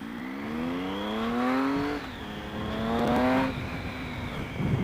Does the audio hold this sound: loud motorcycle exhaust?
yes